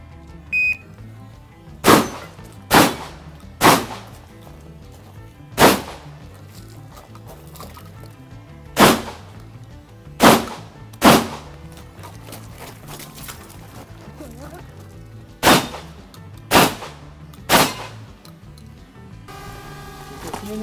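Gunfire at a shooting club: about a dozen sharp, loud reports at irregular intervals, some in quick pairs, each cracking out over quiet ambient hiss.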